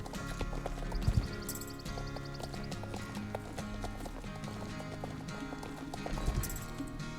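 Horse hooves clip-clopping in a steady rhythm, with occasional whinnies, over continuous game-like background music.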